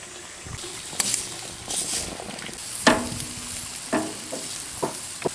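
A steak sizzles on a grill as a cheese steak sandwich cooks, with a steady frying hiss broken by scraping and clanking from a spatula, close and moderately loud, with no voices.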